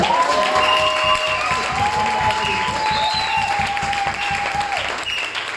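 A church congregation at a Christian seminary bursts into steady, sustained clapping and cheering, loud and close throughout, with rhythmic hand claps under long sung or shouted voices from the crowd.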